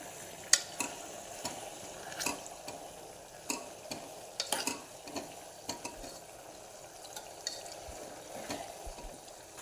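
Leaves simmering in oil in a pot for a homemade ayurvedic hair oil, a low bubbling sizzle broken by repeated sharp clinks and scrapes of a utensil against the vessel, close by with no voices.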